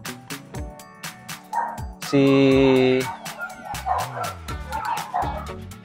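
Several XL American Bully dogs bark and yip close by in sharp repeated bursts, with a sustained high whimper in the middle, while a person briefly speaks over them.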